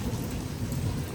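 Heavy rain falls steadily in Lahore or Karachi, a dense continuous rush of drops heard close and fairly loud, with a low rumbling undertone and no voices.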